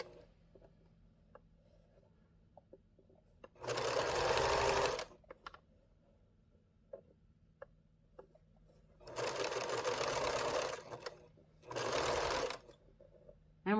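A sewing machine stitches binding on a fabric table runner in three separate whirring bursts, with quiet ticks and handling sounds between them.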